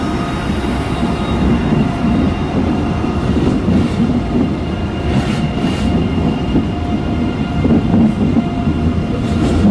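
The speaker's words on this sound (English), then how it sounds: "so he's pulling off, so we'll just hold off for a minute and we'll watch this fantastic train" A long passenger train pulls out across a bridge in Europe, a loud steady rumble of rolling wheels and rail noise that continues without break, with no voices.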